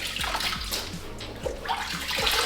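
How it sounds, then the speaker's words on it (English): Water splashes and runs in a bathtub as freshly scrubbed household items are rinsed under the shower, a steady wash with a few soft sloshes and thumps. "so I think it'll be more useful to rinse them in the shower"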